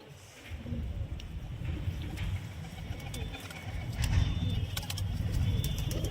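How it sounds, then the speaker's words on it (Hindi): A pair of pigeons, a male and a female, cooing softly amid a steady outdoor background, with a low rumbling murmur running underneath throughout. "अच्छा कबूतरी है, कबूतर है।"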